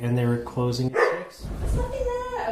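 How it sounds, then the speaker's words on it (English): A dog barks and yips a few times close by while people talk over it. "We've got a dog in the background making noise."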